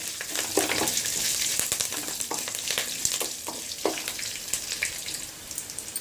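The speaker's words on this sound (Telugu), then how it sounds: "అలాగే కొద్దిగా కరివేపాకు వేసుకొని ఫ్రై చేసుకోవాలి." Onion and curry leaves frying in a pan for a brinjal fry, a steady close sizzle with crackling pops and occasional scraping stirs, no talking.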